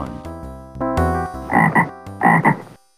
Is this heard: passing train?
no